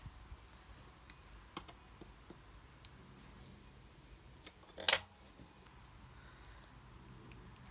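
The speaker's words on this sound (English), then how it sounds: "I'll lay it on my tile here and cut the piece I want." Scissors cut a piece of craft material laid on a tile, making faint scattered snips and taps with one sharp, louder cut near the middle, close in a quiet room.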